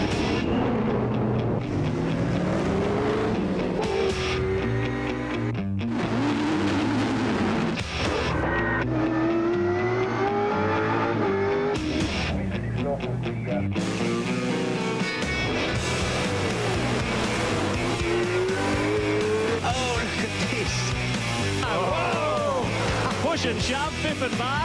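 V8 Supercar racing cars at the Adelaide 500 in the 1999 championship rev and roar past, engine notes rising and falling loudly under steady commentary speech.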